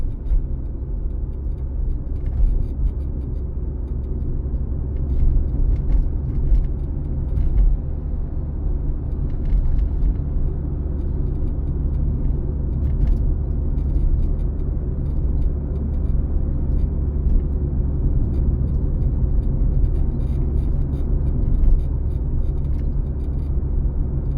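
Car driving through city streets of Lutsk on a driving exam route: a constant loud low engine and road rumble from inside the cabin, with faint scattered ticks and no talk.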